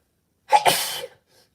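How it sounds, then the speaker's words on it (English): A single close, loud sneeze with a sharp intake and burst, followed by a faint breath afterward. "I'm going to sneeze."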